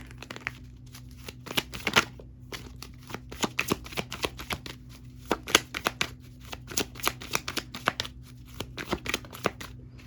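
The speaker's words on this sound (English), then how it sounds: "Let me shuffle." Playing cards are shuffled again and again in a quiet room, giving crisp riffling bursts and soft rapid flutters in an uneven rhythm across the whole stretch. A low steady hum sits underneath and no one speaks.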